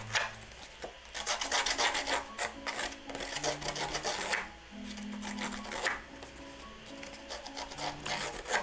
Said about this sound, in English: I'm going to kind of really fray up the edge of this piece of cardstock so it looks very beach shabby